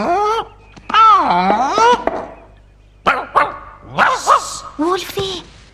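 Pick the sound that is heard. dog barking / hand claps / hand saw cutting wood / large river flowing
dog barking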